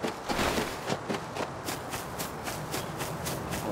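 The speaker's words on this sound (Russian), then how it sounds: "Я слышу шаги." Footsteps in the survival game Rust, a steady run of quick, evenly spaced steps at close range with light shuffling between them and no talking over them.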